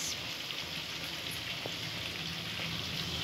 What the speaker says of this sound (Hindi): तो अच्छी तरह से भून लूँगी।